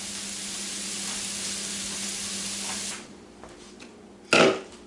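Salisbury steak patties fry in a pan, a close, steady hissing sizzle that suddenly drops off, followed by a short burst of sizzle or spatter near the end.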